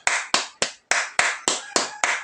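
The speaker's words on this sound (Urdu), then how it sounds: "اس کے لیے دونوں ہاتھوں سے تالی بجانی ہے" Eight crisp two-handed claps sound close and clear at a steady, slightly uneven pace, with one brief pause near the middle and no talking.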